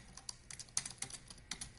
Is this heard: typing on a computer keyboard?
yes